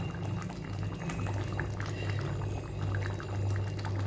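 Gathi kochu and prawn curry bubbling steadily in a pot as the gravy reduces, a continuous close, low boiling burble with small pops, no voices.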